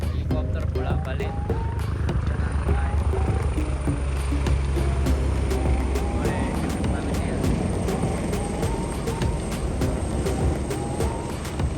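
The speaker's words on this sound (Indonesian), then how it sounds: "Helikopter bolak-balik" A helicopter's rotor thuds and whine fill the air nearby on Castle Peak, Tuen Mun, Hong Kong, steady and loud, with voices speaking underneath and occasional higher tones.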